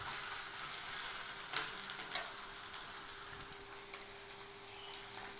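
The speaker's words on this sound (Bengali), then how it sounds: "আমি 2 মিনিট ভালো করে ভেজে নেবো।" Food frying in a little oil in a pan while a tarka is made, a faint, even sizzle with light crackle and a couple of soft stirring taps.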